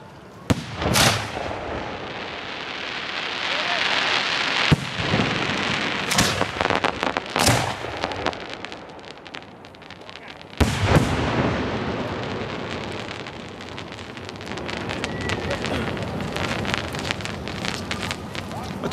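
Professional firework shells launched at a display, a series of sharp booming thumps and crackles spaced irregularly over a steady windy, rain-like hiss.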